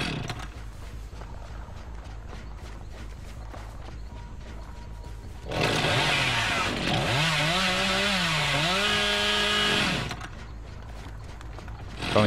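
A Dead by Daylight chainsaw revs up suddenly and roars for several seconds, its engine pitch rising and dipping, then cuts out, rather quiet in the mix over game ambience.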